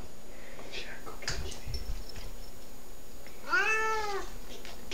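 A single clear cat meow rises and falls near the end, close and moderately loud, after a few soft sniffs and rustles in a quiet room.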